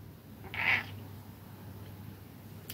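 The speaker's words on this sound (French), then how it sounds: "Le chat miaule." A house cat gives one short, fairly clear meow close by, standing alone against quiet room background.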